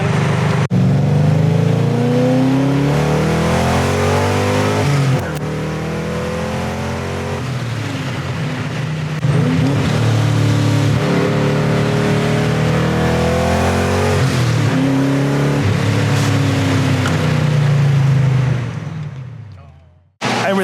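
A turbocharged Evo engine revs hard while driving, loud and close, its pitch climbing and dropping through repeated gear changes before cutting off abruptly near the end.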